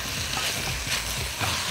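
Tomato, onion and garlic fry in a pan while being stirred, a dense steady sizzle close up with soft scraping and bubbling textures throughout, no voices.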